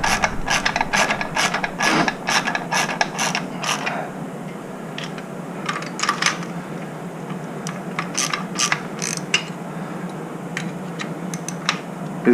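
A ratchet wrench clicks rapidly as nylock-nut bolts are tightened down on a Ford Ranger with an OM603 diesel swap, quick close ticking bursts followed by slower, sparser clicks.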